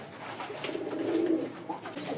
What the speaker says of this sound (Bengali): এই জায়গায় আছে আর এক জোড়া গোল্লা কবুতর